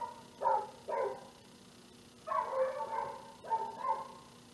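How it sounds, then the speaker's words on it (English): A dog barks in four bursts, the first two short and separate, the last two longer and rougher, over a quiet background hum. "that's my dog."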